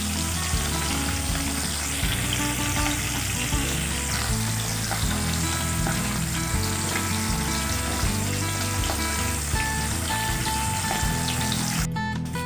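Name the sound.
hilsa fish frying in oil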